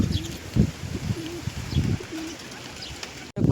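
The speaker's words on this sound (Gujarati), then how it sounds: "બધા કબૂતર આવી જાય છે ને પાણી પીવે છે બધા" Pigeons cooing close by in a repeated, rhythmic run of low throaty calls, with faint chirps higher up and a soft flutter, gathered around a water container to drink; the calls continue steadily before a brief thump near the end.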